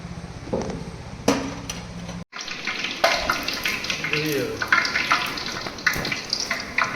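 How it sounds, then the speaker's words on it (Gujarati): Whole cumin, curry leaves and cloves tempered in groundnut oil, crackling and spitting in bursts with a sharp clatter of utensils, while a voice talks over it. "હવે આપણે આખું જીરું લીલો લીમડો કચપટા લવિંગનો વઘાર મારશું"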